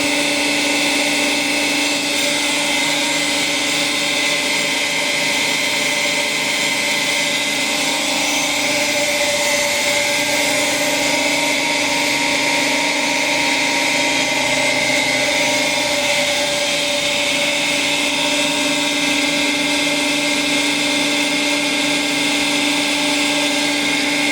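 A continuous high-pitched grinding whine from a grinding machine working a metal cylinder runs steadily and loudly throughout, with no pauses or voices.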